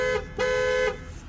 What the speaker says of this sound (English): We're going to honk the horn here.